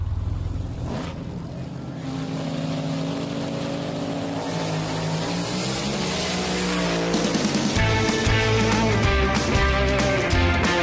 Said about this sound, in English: ain't nothing better than the sound of engines revving up at the starting line